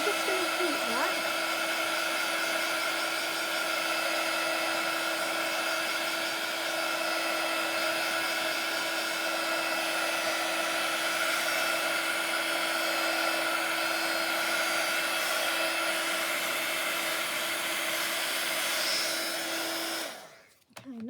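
A heat tool blows continuously and loudly, warming an embossed card in a crafting setup, its steady fan whoosh and motor whine holding unchanged for about twenty seconds before cutting off abruptly.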